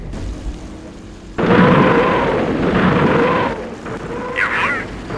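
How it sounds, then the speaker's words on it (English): Artillery barrage in Company of Heroes, a World War II strategy game: a sudden loud rumbling blast cluster that sustains for a couple of seconds amid battle noise, with a short voice cry near the end. "Barrage on target!"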